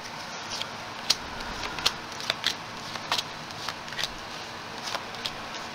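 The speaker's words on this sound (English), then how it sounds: "But I'm not ready to stop shuffling," Tarot cards are shuffled by hand, giving soft papery riffles and sharp card snaps at an irregular pace, close and moderately quiet, with no talking.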